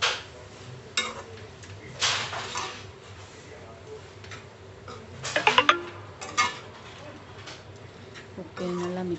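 Fried chicken tikka pieces are tipped into a pan of gravy and stirred, making scattered clinks and scrapes of a utensil against the cookware, quiet and intermittent, while someone talks over it.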